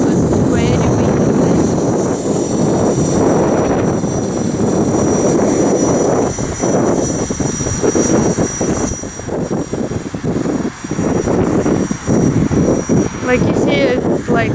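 An Exceed Blueray 450 RC airplane flies in very strong wind, its faint motor buzz nearly buried under continuous heavy wind buffeting against the microphone, with choppy gusts throughout.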